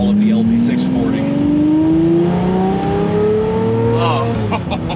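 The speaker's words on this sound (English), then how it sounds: "Oh, the howl of the LP640." A Lamborghini Murcielago LP640 engine howls loudly and steadily, its pitch climbing smoothly through a long pull for several seconds before easing off, with some talk mixed in underneath.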